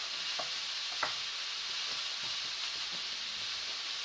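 A vegetarian pasta sauce sizzles softly in a pan under a steady hiss, with a few light scraping stirs of a utensil through the mixture.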